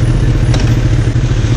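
A 2012 Kawasaki Ninja ZX-10R sport motorcycle engine runs loud and close with a dense, steady droning roar and no talking.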